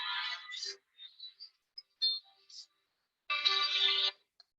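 A phone ringtone chirps in short broken bursts, then rings louder and steadily for about a second, in a quiet room during a religious study class.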